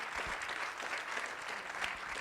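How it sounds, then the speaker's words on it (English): Audience applause at a policy summit for the staff, a dense steady clapping from a sizeable crowd in a hall, heard alone at moderate distance. "please give these guys a huge round of applause"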